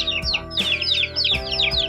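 Chickens cluck and chirp in a steady series of short calls close by, with a few louder, sharper squawks standing out; no talking.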